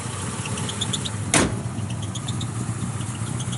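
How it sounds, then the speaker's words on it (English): A 1971 Chevrolet Nova SS 350 V8 idling steadily with a faint high squeak from a loose alternator belt riding on top, interrupted once by a brief sharp burst of noise. "That alternator belt squeaking just a little bit."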